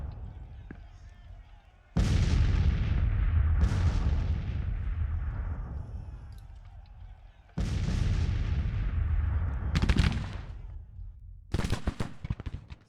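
Civil War troops and artillery firing in the strategy game Grand Tactician: The Civil War: heavy booming volleys with long rumbling decays, then several sharp crackling bursts of musket fire, with a voice talking in between.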